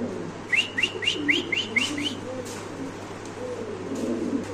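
Close Spanish pigeons give soft, continuous low cooing. Early on, a quick run of about seven sharp whistled chirps rises above it, and the cooing carries on alone afterward.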